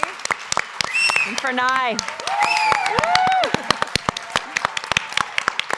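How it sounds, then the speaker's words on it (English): A small audience gives a thin, scattered round of applause for panelists at a women entrepreneurs' event, a few separate claps popping under a speaking voice. "Give a round of applause for Jules, Rika, and Tiffany."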